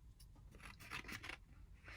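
Scissors snip through a misprinted screen-printed Christmas card, a few close, quiet crunchy cuts and paper rustles in a fairly soft, faint passage.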